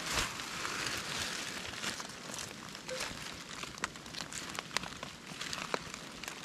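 Afternoon rain falls outdoors during mushroom picking, a steady broad hiss scattered with close, crisp patters and drips, moderately loud throughout.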